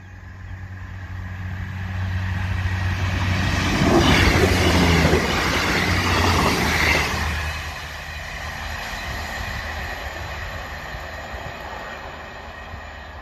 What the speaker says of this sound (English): this little crossing is the Norwich to Liverpool Lime Street service